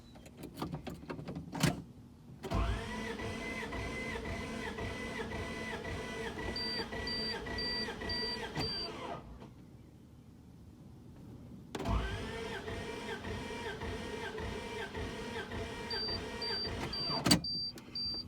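A 1996 Dodge Ram 1500 engine starter cranks with all spark plugs out in two long runs with a whirring drone, a pause between them, plus short beeping chirps near the end of each run.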